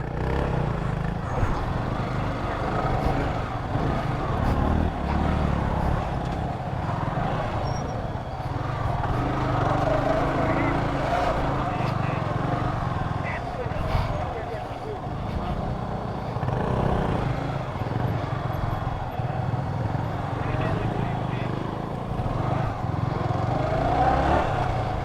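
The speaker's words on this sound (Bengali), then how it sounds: "এরকম রাস্তা না এটা মানুষ এটা যাওয়ার মতো রাস্তা না কিন্তু বাইক চালাচ্ছি আমরা এখান থেকে" A motorbike rides along a dry sandy streambed, its engine droning steadily and unevenly throughout, with bumps and rattles mixed into the hum and no clear pauses.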